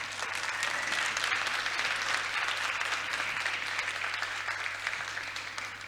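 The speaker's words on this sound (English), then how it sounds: "give a round of applause for the tech team" An audience in the Odeon Theatre, at a climate change summit, gives a sustained round of applause for the tech team, a dense, even wash of many hands clapping steadily at moderate distance with no voices over it.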